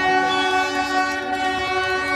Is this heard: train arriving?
yes